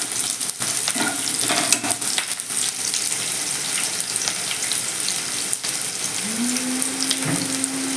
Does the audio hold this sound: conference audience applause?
no